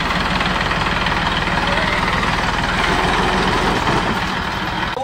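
A tractor engine runs loud and close while hauling a fishing boat out of the water at Bankot, a steady rumbling drone with a knocking pulse that holds throughout and eases slightly at the end.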